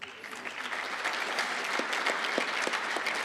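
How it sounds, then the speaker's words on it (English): An audience at the Pan African Mathematics Olympiad applauds participants as they come up, giving steady, sustained clapping from a crowd that fills the room for a few seconds. "please clap as they're coming up"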